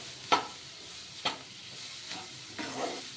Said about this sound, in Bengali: খুব ভালো করে নেড়ে চেড়ে স্টাফটা তৈরি করে নেব আমি।